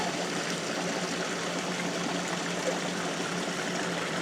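Water pumped through a homemade gold trap contraption, a steady rushing and trickling flow close by, constant and unbroken with no voices.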